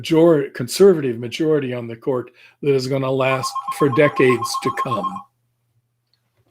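A phone rings briefly under a man's steady speech about politics, a faint buzzing ring tone running for about two seconds in the middle of his talk.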